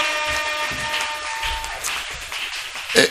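A church congregation applauds and cheers during a worship service, with dense clapping and some voices building toward a louder burst at the end.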